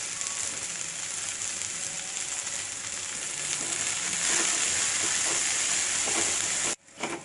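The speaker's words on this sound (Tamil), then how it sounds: "இந்த கட் பண்ணி வச்சுருக்கக்கூடிய வெங்காயத்தை அதில் போட்டு நல்லா வதக்க வேண்டியதுதான்" Chopped shallots and curry leaves fry in hot oil for a Tamil roasted egg curry, giving a steady, close, loud sizzle that holds throughout and cuts off abruptly near the end.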